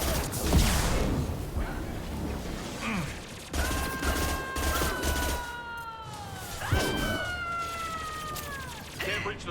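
Heavy weapon fire in Mass Effect 2 Legendary Edition: bursts of blasts in a sci-fi battle, with long whining tones that slide downward after the shots, amid continuous combat noise.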